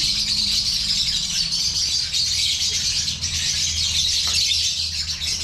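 Pet lovebirds at a pairing cage chirping continuously, a busy high-pitched twittering chorus from several birds fairly close by, with faint rattles and flutters underneath and no talk.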